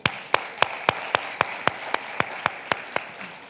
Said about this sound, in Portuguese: Uma salva de palmas para Vivi,